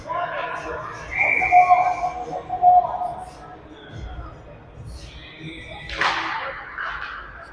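Referee's whistle blown during a youth ice hockey game between the Ames Flyers and Vipers, a couple of shrill tones mixed into arena crowd and ice noise, with a play-by-play voice nearby.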